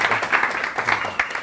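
A lecture audience claps for a speaker. A brief, dense patter of many hands fills the whole short moment.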